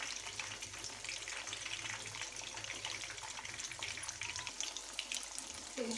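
Fish fillets coated in masala frying in hot oil, giving a steady, dense sizzle that stays constant and close throughout with no talk.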